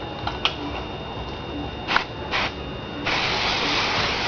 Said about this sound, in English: That, in hairdressing terms, is a little bit of spray.